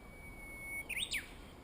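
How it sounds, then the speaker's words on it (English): Birds near hillside reservoirs and rice fields in rural Japan give a brief burst of bright chirps and whistled calls, close and clear over a quiet, faint background. "As you can hear from the birds"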